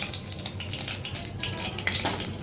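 Dried red chili pieces and a torn bay leaf sizzling in hot oil while a fish curry is being made, a steady close crackling hiss with scattered brighter pops and no talk.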